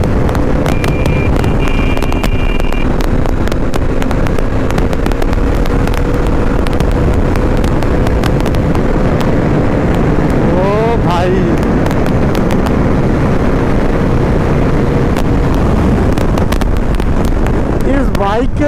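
A Bajaj Dominar 400 motorcycle at high speed produces a constant roar of wind buffeting over engine hum, with brief rising engine tones, loud and unbroken.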